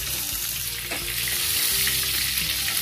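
Mustard and fenugreek seeds spluttering in hot oil with green chillies, a dense continuous crackle and hiss, close and steady, with no talk over it.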